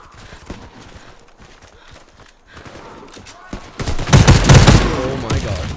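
Heavy gunfire from an Imbel IA2 assault rifle in the shooter game Warface on Xbox Series X: quiet sporadic game noise, then a loud, dense burst of rapid shots near the end.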